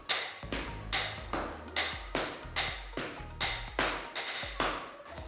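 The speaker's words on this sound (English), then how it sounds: "How the smaller hammer taps dictate the strength and timing of the larger hammer strikes." Rhythmic hammer strikes on steel in a katana forge ring out about twice per second, smaller and larger hammers alternating, sharp clanging blows with a bright ringing decay after each hit.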